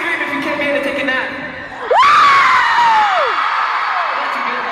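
A concert crowd bursts into a loud scream and whoop after a brief lull, a rising shriek peaking then trailing off while the roar of voices holds steady.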